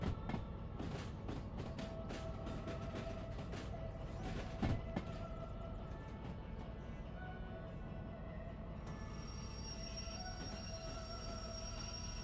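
Locomotives rolling along straight-ish track in a video game, with a steady rumble of wheels, rhythmic clicks and thumps, and high metallic squeals and tones running throughout at moderate level.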